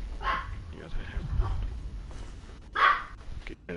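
A small dog barks in the video game Inside, two short yelps about a second and a half apart, moderately close and mixed with a voice talking over the game.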